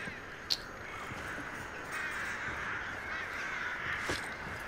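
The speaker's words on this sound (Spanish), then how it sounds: "Ah, los cuervos, no te puedo creer tanto cuervo." Crows caw repeatedly over a steady ambient bed in the video game Redfall, the calls moderately loud and scattered across a few seconds.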